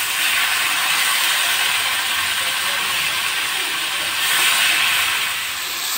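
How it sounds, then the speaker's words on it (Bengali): Marinated chicken hits a hot pan of fried garlic, giving a loud, steady, close sizzle that holds for several seconds without a break. "এখন চিকেনটা দিয়ে দেব"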